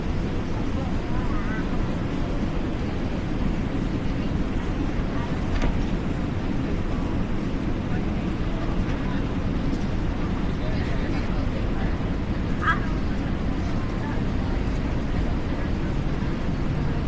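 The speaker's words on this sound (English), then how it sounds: "Engine 2 started." Steady broad roar of an easyJet airliner's engine 2 spooling up at Gatwick in Microsoft Flight Simulator 2024, a continuous even rumble filling the whole stretch with faint chatter beneath it.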